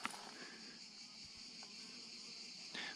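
Hornets hunt honeybees at a hive in the Dordogne, a dense steady buzz of wings droning close and continuous, with a few louder passes at the start and end.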